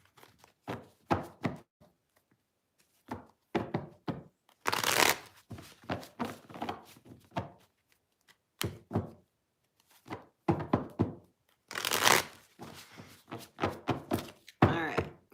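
Tarot cards shuffled by hand in repeated bursts of riffling and soft slaps, close and fairly quiet, with short pauses between bursts and no talking.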